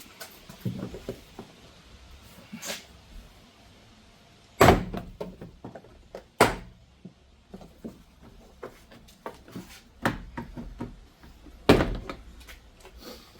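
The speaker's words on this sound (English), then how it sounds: "I'm just going to kind of pull the door panel, the locking tabs, and lift up" A rear door panel is pried off a Nissan Frontier, its locking tabs releasing and the panel lifted free. Several sharp plastic pops and clunks stand out over quieter rustling and handling noises, with no talking.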